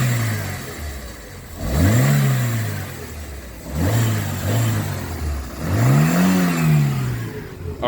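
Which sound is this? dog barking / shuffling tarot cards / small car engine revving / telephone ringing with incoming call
small car engine revving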